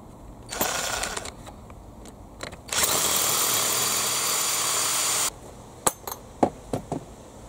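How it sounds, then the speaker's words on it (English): Power drill boring into the slot of a Bruder MB Sprinter toy truck body with a 6mm bit, a brief start followed by a steady loud whine for a few seconds, then a series of sharp taps and clicks. "I'm going to go in at the top of this slot with the 6mm drill bit"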